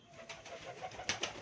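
Pet pigeons coo close by in a rooftop loft, a couple of soft repeated coos with a few brighter flutters or pecks near the end, no talking.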